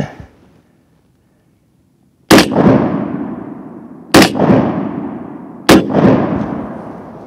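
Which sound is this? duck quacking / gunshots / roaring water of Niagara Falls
gunshots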